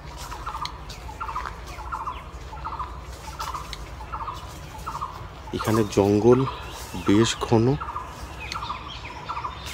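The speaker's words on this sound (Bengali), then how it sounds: "চারিদিকে বিভিন্ন রকমের পাখির শব্দ" Birds in a dense forest in Nadia, West Bengal, chirp in a steady repeated pattern, then louder gobbling, turkey-like calls burst in midway, while a person speaks.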